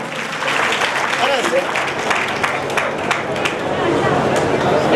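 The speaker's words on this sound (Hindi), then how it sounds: "इन भामाशाहों का दानदाताओं का जोरदार तालियों से स्वागत करें, वंदन करें" Loud, steady applause from a crowd welcoming donors at a Keer Samaj talent honour ceremony in Bhilwara, dense clapping with some crowd murmur running throughout.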